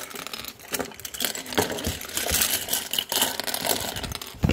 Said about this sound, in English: So just turn it randomly and it'll just start to crumple to the ground.